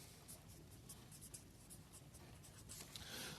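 Pen scratching out equations by hand on paper, faint close strokes in quick irregular bursts, with quiet background noise.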